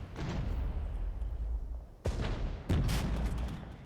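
Booming cannon fire from tanks and reconnaissance vehicles in the real-time wargame Regiments: a continuous rumble of distant battle broken by two heavy, sudden blasts near the middle and toward the end.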